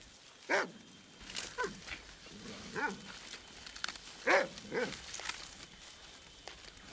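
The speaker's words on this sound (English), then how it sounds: "The Kiwi dog lives up to its name and tracks down a new Kiwi burrow." A kiwi-tracking dog searching for a kiwi burrow gives several short, sharp barks and whimpers spaced across the clip, close by, with faint footsteps and rustling between them.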